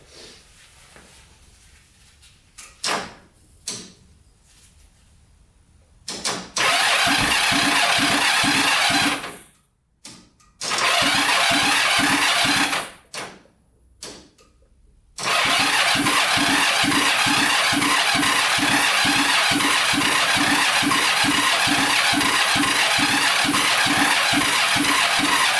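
A seized, rusted-out Kawasaki Mule engine is cranked over, starting with a few brief clicks and short loud bursts. These give way to long, loud, rhythmic churning cranking up close that goes on without talk.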